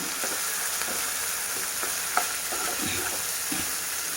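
Ginger garlic paste fries with onions in a pan for a vegetable kurma, making a steady, close sizzle. Light stirring scrapes and taps come through the sizzle at irregular intervals.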